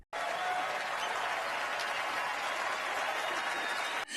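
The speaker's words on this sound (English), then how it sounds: "the crowd stood up to applaud" A standing audience of celebrities at a live televised event applauds, dense sustained clapping that starts abruptly and holds evenly loud before cutting off near the end.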